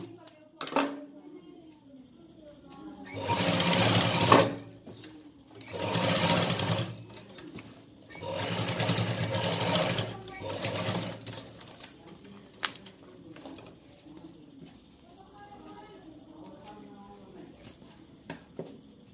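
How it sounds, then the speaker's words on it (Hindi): Sewing a zip onto ladies' trousers, a machine runs in three close, rapid stitching bursts with pauses between, then falls quiet while a voice speaks faintly under light room noise. "इस पर हम सिलाई लगाएंगे"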